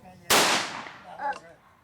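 A single sharp bang from an ATAK Zoraki 914 blank pistol, loud and close, with a short decaying tail and a brief voice right after the shot.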